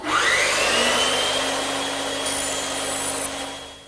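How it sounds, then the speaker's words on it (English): A band saw cutting wood for a garden bench tenon, with a loud, steady motor whine and the grinding rasp of the blade through the timber, fading slightly as the cut goes on, heard close with no talking. "but the band saw is just quicker"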